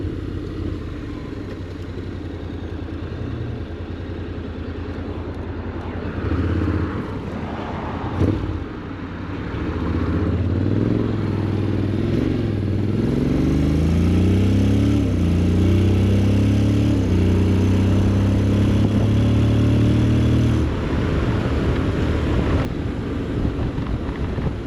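A Honda X-ADV 750 scooter-style motorcycle leans through a run of curves on an open road, its engine note rising and falling with each bend under steady wind rush at the microphone, no talking.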